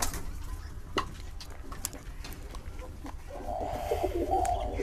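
Pigeons coo softly in the background of a room, a low murmuring that grows a little fuller toward the end, with faint ticking and a voice speaking now and then.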